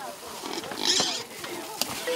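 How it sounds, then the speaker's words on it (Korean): Pigs squealing as villagers grab them by the hind legs during a livestock handout in an African village, shrill cries over crowd noise and people talking. "돼지들은 도망가려고 발버둥 치고"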